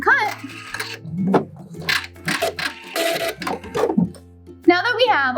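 A sewing machine back stitches along the edge of a drawstring bag in short bursts of rapid mechanical clatter, broken by pauses, while someone talks over it and a high whirring tone sounds near the end.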